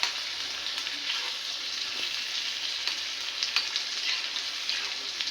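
A hot tadka with onion sizzles and crackles as it is poured over pav bhaji. The frying hiss is steady and close, with small pops scattered throughout and no voices.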